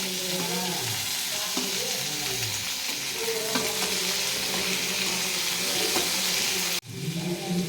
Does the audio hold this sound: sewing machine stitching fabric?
no